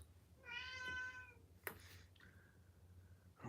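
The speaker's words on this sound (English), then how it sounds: "He loves to meow all the time for any" A male house cat meows indoors, a long tonal meow followed by a shorter, thinner one, fairly close and alone over a quiet background hum.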